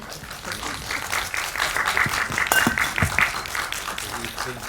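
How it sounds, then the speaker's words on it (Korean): A press-conference audience in Korea applauds as the director and actors of the film Another Way arrive, steady clapping at moderate volume with a few voices and camera-like clicks scattered through it. "큰 박수로 맞아주시기 바랍니다"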